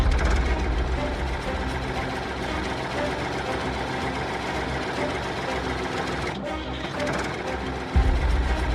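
Tractor engine running close by, a dense steady mechanical chatter and low rumble with a brief louder surge near the end.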